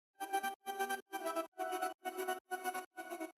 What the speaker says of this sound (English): Then I also added an extra ambience layer.